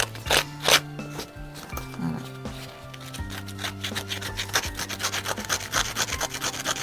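Scissors scrape across painted wood to give it a distressed shabby look, a series of rough rasping strokes that quicken into a fast steady rhythm, close and alone without talk.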